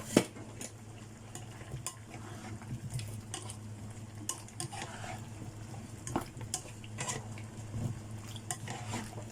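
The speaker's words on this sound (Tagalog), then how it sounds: "Kumukulo siya." Pork adobo with potatoes simmers in a pot over a steady low burner hum, with soft bubbling and occasional light clinks of a utensil against the pot, close and fairly quiet throughout.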